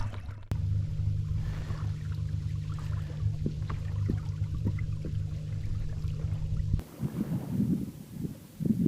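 A steady low outboard boat motor drone, in third gear while trolling for pike on open water, hums evenly for several seconds, then cuts out, leaving splashing water and wind noise.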